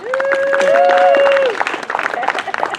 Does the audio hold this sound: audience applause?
yes